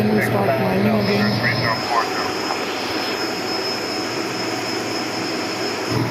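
Cirrus aircraft engine in the X-Plane 12 flight simulator as the plane climbs, a steady droning engine hum with a voice talking over it during the first seconds.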